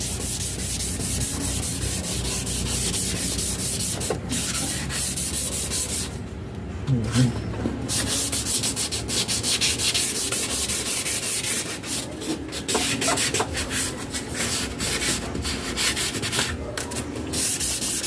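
Steady abrasive sanding on the yellowed, hazy plastic headlight lens of a 1997 Honda City, a continuous close scrubbing rasp with brief pauses and no talk.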